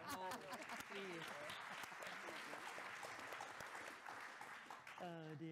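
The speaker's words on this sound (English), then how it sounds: "I think a round of applause, please." Clapping from an audience at a memorial lecture rises under talk and laughter, with voices audible at the start and end.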